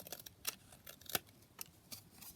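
Scissors trimming a sheet of paper for a junk journal, a few crisp separate snips spread across a couple of seconds, close and fairly quiet with no talking.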